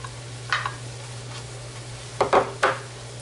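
A spoon stirs low-fat cottage cheese into a pasta bake in a pan, giving a few soft, close scraping strokes in brief clusters over a low steady hum.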